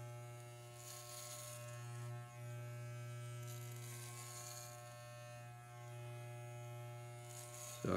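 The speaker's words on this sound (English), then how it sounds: "the razor lever is set to the closed position, cutting more aggressively" Electric razor with its lever set closed runs during a self haircut, a steady close buzzing hum that swells and dips slightly as it passes through hair, no speech.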